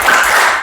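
A classroom doing a rhythmic focus clap, a short dense burst of many hands clapping together, loud and close.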